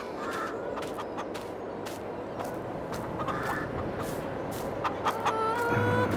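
Chickens in the video game Farming Simulator 22 cluck and squawk repeatedly in a busy, overlapping chorus over a soft background hum, with occasional louder calls.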